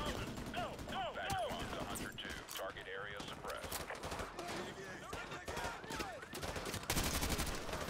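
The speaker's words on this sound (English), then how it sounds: "See, I just shot Corporal Dunn." Gunshots in the video game Modern Warfare 2 Campaign Remastered, scattered shots and bursts amid busy battle noise, moderately loud, with voices speaking over the action.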